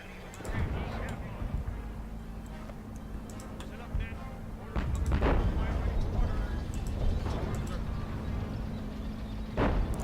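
Artillery firing in the Company of Heroes WWII strategy game: several sharp booming shots spread irregularly over a continuous rumbling battle bed, with a voice talking over parts of it.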